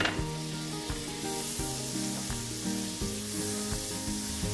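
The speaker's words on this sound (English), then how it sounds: "Kind of scraping the pan to just really make sure all the flavors come out" Shallots frying in melted butter give a steady close sizzle, with a wooden-sounding scrape of the pan repeating through it and no voices.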